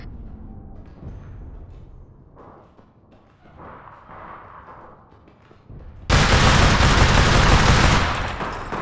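Loud sustained gunfire in APB Reloaded, a rapid automatic burst erupting suddenly after quieter background game sounds and lasting a few seconds before tapering.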